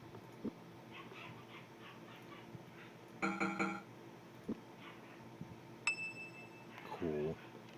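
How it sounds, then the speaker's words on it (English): Pet dogs in a room whimpering and giving a few short yips and barks, faint and intermittent against a quiet background, with a brief bell-like chime midway. "If you hear my dogs, sorry."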